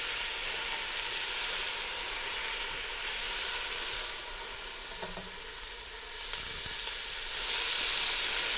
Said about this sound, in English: So we'll saute the onions and peppers.